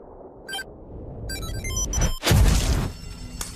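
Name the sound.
lighter-shaped bomb exploding in a film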